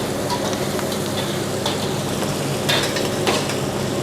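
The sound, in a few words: whole chilies popping while frying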